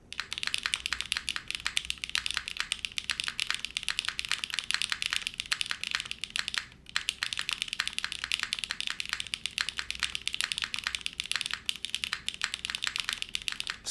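Rapid, continuous typing on an Arc60 mechanical keyboard fitted with HMX Macchiato switches produces a dense stream of crisp key clacks at close range, with a single brief pause near the middle.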